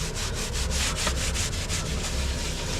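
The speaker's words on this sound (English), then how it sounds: "What you're gonna do is like you're smoothing it, all these little holes and stuff that" Steady rhythmic rubbing and scraping as sanded Polyblend Plus grout is smoothed by hand across tile joints, filling small holes, a close continuous back-and-forth scrub with no talking.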